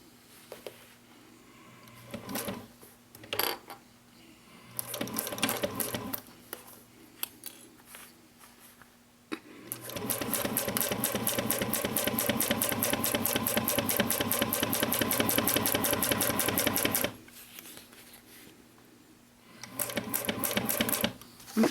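A sewing machine runs in short bursts and then one long steady stretch while stitching the seams of a mini box tote bag, close by, with handling noises between runs.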